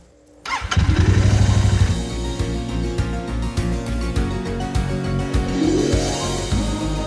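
A motorcycle engine cranks and catches after a quiet moment, then settles into a loud, steady, chugging idle close by.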